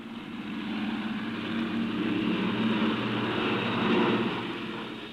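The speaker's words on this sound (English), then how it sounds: "2 more maritime reconnaissance aircraft, an Australian Neptune and an RAF Shackleton" An Australian Neptune and an RAF Shackleton maritime reconnaissance aircraft fly past with a steady, loud propeller-engine drone that swells slightly and holds throughout, with no voices.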